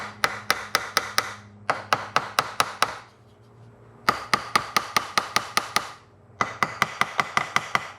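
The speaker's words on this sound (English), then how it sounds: "give it a little whack here." Hammer blows on a stuck aluminum cylinder head of a 1973 Mercedes 450SL M117 V8, sharp metallic whacks in quick bursts of five to six strikes, loud and close, separated by short pauses with no talking.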